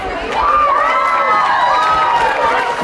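Crowd at an outdoor Christmas lighting ceremony on the Cumberland, cheering and applauding a choir in wet weather, a steady loud wash of cheers and claps with shouting voices on top throughout.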